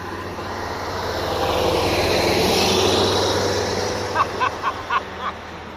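A Rustler RC truck drag racing against a full-size truck, a loud rising then falling whine of the motor passing close by, followed by a few short sharp bursts near the end.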